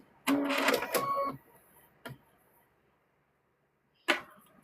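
A sewing machine runs in a short burst as it stitches the top of stuffed bear fabric, followed by a single quick whir and, after a pause, another brief mechanical burst, close and fairly quiet.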